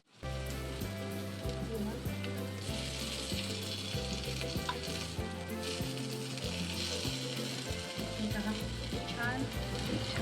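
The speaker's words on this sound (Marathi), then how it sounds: "तेल व्यवस्थित गरम झालेलं आहे त्याच्यामध्ये आपण एक एक ठेवूया" Paneer pieces laid one by one into a pan with a little hot oil sizzle and crackle steadily throughout, with a loud, continuous frying hiss over a background of steady melodic music.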